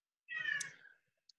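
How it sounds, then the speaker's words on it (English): A single cat meows once, a clear, fairly close mewing cry lasting under a second, followed by a faint tiny click, with no talking over it. "I think I hear a kitty cat there too somewhere."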